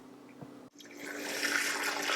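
Brewed coffee strained through a press with the beans pushed to the bottom, a brief soft sound and a short pause, then a rising, steady rush of liquid close by.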